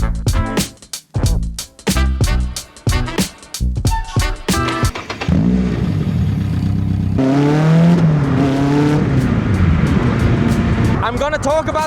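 A sports car, a driver's more raw successor to a Lotus Elise, runs fast over gravel: first a chopping, pulsing engine note with stones crunching, then a loud sustained revving drone that climbs and falls, all close and with no talk.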